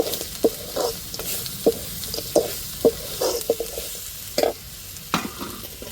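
Chicken fries in sizzling oil in a pan while a spoon scrapes and stirs in irregular knocks, close and fairly loud, with no voices.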